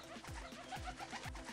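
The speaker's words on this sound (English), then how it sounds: "Pigeons." Pigeons coo in a soft, repeating pattern, with three low throaty calls rising out of a steady murmur of cooing and no talking.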